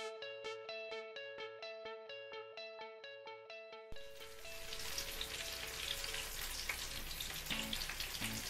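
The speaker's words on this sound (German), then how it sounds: "wir frittieren ganz leicht im Rapsöl in der Pfanne unsere Feta" Breaded feta cheese frying lightly in rapeseed oil in a pan, a soft crackling sizzle that comes in midway after a plinking melodic tune and then carries steadily over it.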